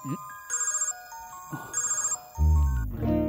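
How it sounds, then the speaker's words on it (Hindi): A mobile phone ringtone sounding in a Hindi-dubbed romantic film, a bright repeating electronic melody in several short bursts, followed by a loud low swell of background music at the end. "फोन बज रहा है, उसी का होगा।"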